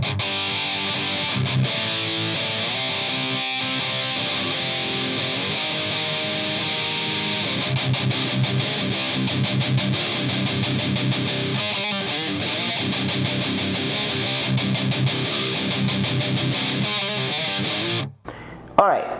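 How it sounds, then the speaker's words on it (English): Electric guitar played through the Metal Zone setting of a Digitech DF-7 Distortion Factory pedal, a dense, steady, heavily distorted tone that runs loud and continuous for most of the stretch before cutting off near the end. "this is going to be the Metal Zone from the Distortion Factory"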